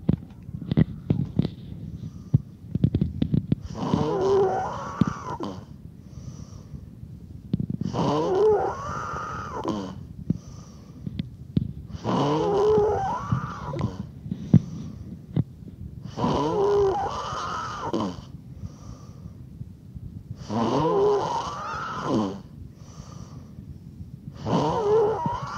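A sleeping person snores in a slow, steady rhythm, about six rasping breaths spaced a few seconds apart, over a low background rumble.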